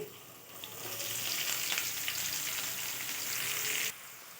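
Two large finely chopped onions frying in hot oil for Betageri chutney give a steady, close, even sizzle that stops abruptly near the end, with no talking.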